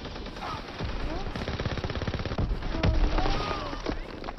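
Rapid machine-gun bursts and scattered gunshots from the video game Call of Duty: World at War rattle on continuously and loudly, with faint voices underneath.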